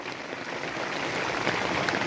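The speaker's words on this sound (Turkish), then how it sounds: "Arkadaşlar güzel bir yağmur geldi." Steady rain falls outdoors in the countryside near a village, a dense, even hiss that holds level throughout with no talk over it.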